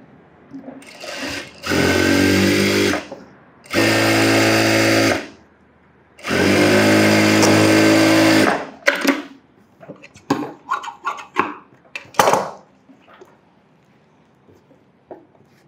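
A sewing machine stitches a child's umbrella frock in three loud, steady runs of about one to three seconds each, separated by short pauses, followed by softer scattered handling clicks and fabric rustles.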